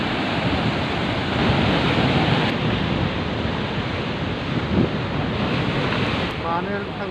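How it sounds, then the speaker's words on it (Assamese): Sea waves on the Kerala coast near Kollam, a constant roaring surf wash heavily mixed with wind buffeting the microphone, steady and loud throughout with no talk. "পানীৰ ঢৌ আহিছে,"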